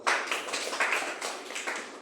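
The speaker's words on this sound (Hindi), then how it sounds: "हाँ सर एक बार जोरदार ताली दोबारा" An audience at a Hindi-language gathering claps loudly in a dense, continuous burst with rhythmic surges, close and steady for the full stretch.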